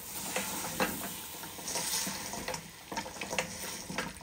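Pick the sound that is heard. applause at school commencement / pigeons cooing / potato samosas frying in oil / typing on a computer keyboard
potato samosas frying in oil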